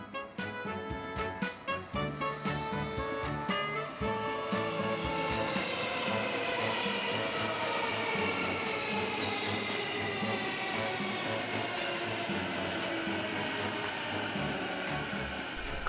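A freight train hauled by electric locomotive EF210-344 rumbles past close by, a steady loud roar of wheels and motor with rhythmic clacking and a high whine, continuous throughout.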